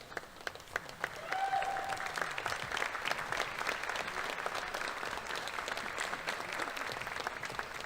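Sustained applause from an awards ceremony audience honoring top 25 sophomores, dense clapping that swells after a quiet start and carries steadily to the end, with a faint murmur of voices underneath.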